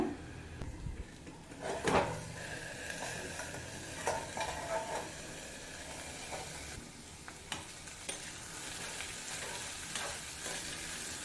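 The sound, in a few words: beans being stirred while cooking in a pan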